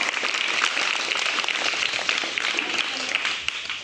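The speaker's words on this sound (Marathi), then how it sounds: "त्या मुलांचं आपण जोरदार टाळ्या वाजवून स्वागत करूया टाळ्या वाजवा जोरदार" A crowd claps loudly to welcome new students at a school admission celebration, with continuous, even applause sustained throughout, fairly close and without speech over it.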